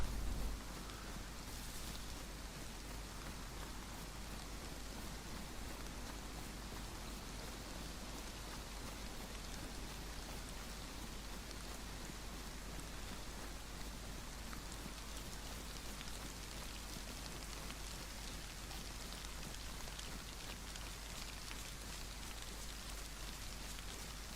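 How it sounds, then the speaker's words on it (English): Rain falling in the survival video game DayZ on Xbox, on the Chernarus map: a dense, even patter of rain on surfaces that continues unbroken for the whole stretch, soft and without speech. "Damn, look at this rain, man."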